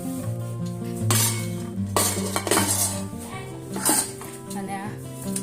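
Metal utensils and dishes clink and clatter in a home kitchen, with several sharp knocks and scrapes rising over a continuous murmur of conversation.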